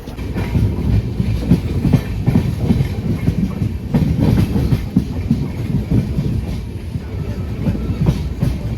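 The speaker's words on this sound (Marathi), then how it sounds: "इकडे ट्रेन लागलेली आहे आपली दिवा सावंतवाडी." A Diva–Sawantwadi passenger train on the Konkan Railway rolls along with a steady rumble and rhythmic clickety-clack of wheels over rail joints, heard close from inside the carriage without talk.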